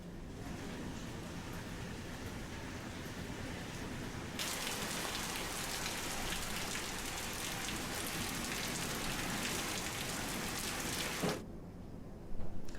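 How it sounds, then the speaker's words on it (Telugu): Heavy cyclone rain pours down in Bhadrachalam, a dense, continuous hiss of drops striking surfaces that grows louder partway through and cuts off sharply near the end. "తుఫాన్ ప్రభావంతో ఈదురుగాలులతో కూడిన భారీ వర్షం కురిసింది"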